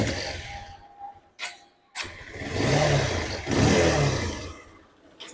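A Bajaj Pulsar 220 BS6 motorcycle engine catches after a few short cranking bursts, runs briefly with a rough swell, then dies away, heard up close with no talking.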